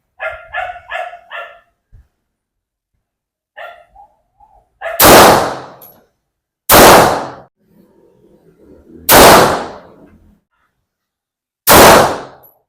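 Walther PPK Stainless pistol fired four times outdoors, each loud sharp shot spaced a couple of seconds apart, preceded by a few faint clicks and handling sounds.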